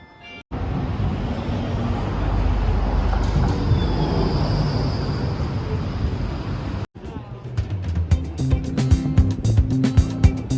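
A tram arriving on a Brussels street: a broad rumbling approach that swells and fades over several seconds amid city noise, then clipped street sounds and voices follow.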